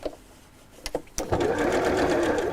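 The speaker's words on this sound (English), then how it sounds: "I'm literally just sewing around my drawn line because this is going to be the hole." A sewing machine runs steadily, stitching around a drawn line to mark out a hole, starting after a few short clicks and continuing loud and close to the end.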